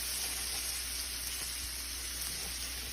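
Onions seasoned with black pepper and salt sizzle in a pan, giving a steady, faint hiss with no talk.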